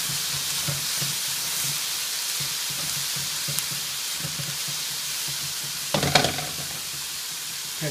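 Steady sizzle of ingredients sweating in a pan for shrimp and grits, lemon peel nearby, with soft stirring clatter and a brief louder scrape near the end; no talking.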